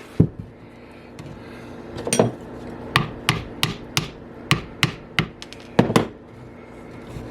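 A hammer taps a fossil-bearing rock about ten times at an uneven pace, sharp and close, with a few soft scraping sounds between strikes.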